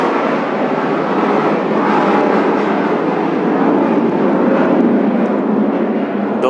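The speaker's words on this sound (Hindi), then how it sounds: "हेलीकॉप्टर जा रहा है" A helicopter passing overhead, a loud, broad continuous rumbling roar that holds steady throughout, with no voices over it.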